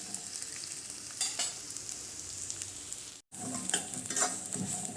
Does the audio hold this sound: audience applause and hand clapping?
no